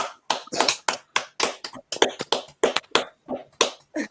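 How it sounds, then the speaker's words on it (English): Sharp, scattered hand claps from a small group during a podcast recording for a guest, about a dozen and a half uneven claps, close and fairly loud, with no talking over them. "So can we give T-Boys TV a round of applause"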